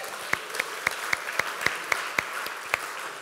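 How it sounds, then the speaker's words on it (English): A church congregation claps in a steady, even rhythm, with sharp regular beats and no voices. "we can applaud that"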